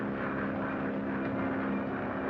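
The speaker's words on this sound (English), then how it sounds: "I'm scared to ride in airplanes." Propeller-driven airplane in flight, a steady loud engine drone with a strong low hum held evenly throughout, no talk over it.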